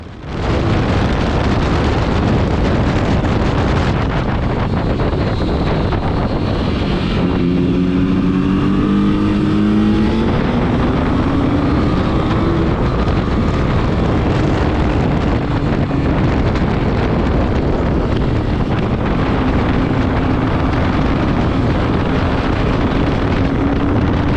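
A motorcycle roars loudly and continuously through turns on a race track during a track day, its engine pitch rising and falling with shifts and corner exits, heavily mixed with strong wind buffeting at the microphone.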